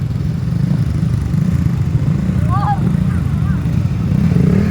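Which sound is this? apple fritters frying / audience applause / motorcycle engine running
motorcycle engine running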